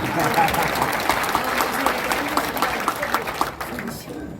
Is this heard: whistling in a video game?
no